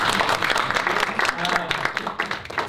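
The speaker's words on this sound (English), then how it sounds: "Give yourself a round of applause." Scattered clapping from a group of trainees at an agile training session, uneven and fairly close, with voices mixed in among the claps.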